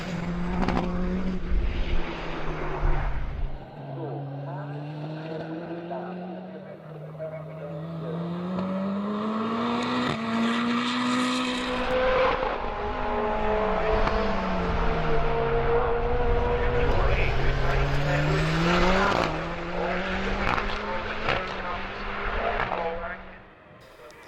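A Westfield race car lapping a circuit in a Super Lap Scotland time-attack event, its engine note rising and falling steadily through gear changes and corners, loud and continuous throughout with a brief lull near the start.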